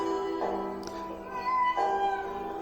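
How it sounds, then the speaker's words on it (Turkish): An injured cat meows twice in a drawn-out, plaintive way, nearby and fairly clear over a steady background hum. "Gece gündüz yaralı kediye bakıyorum."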